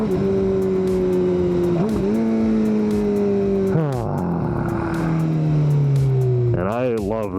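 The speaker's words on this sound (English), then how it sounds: "this is my first motorcycle. It is a 2014 GSXR 750 made by the" A 2014 Suzuki GSX-R 750 motorcycle is ridden with a loud, close engine note that holds steady and then drops sharply through a couple of gear shifts before revving up again, with wind rush underneath.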